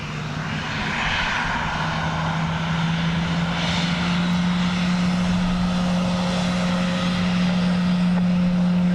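A fixed-wing airliner lands at Dublin Airport on runway 28 left in a 15-knot crosswind, its engines a loud, steady roar with a sustained low hum that builds slightly as it rolls out.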